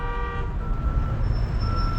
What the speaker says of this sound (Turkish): Yine korna sesleri, trafikte düzensizlik başladı ya.